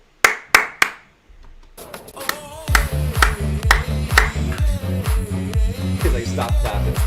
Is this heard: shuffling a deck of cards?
no